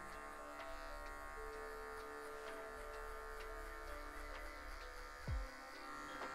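Electric hair clippers hum steadily and continuously at close range through an American-style cut on afro hair, the buzz holding a constant pitch throughout.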